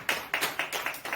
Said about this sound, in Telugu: చప్పట్లు కూడా దేవుని స్తుతించా